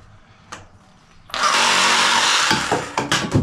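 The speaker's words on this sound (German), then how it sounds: "Da schneiden wir das jetzt auch wieder ab mit der Säbelsäge" Reciprocating saw cutting during a toilet cistern installation in a drywall partition, a harsh, loud buzzing burst that starts abruptly after a brief tap, runs for about a second, then breaks into short stuttering cuts.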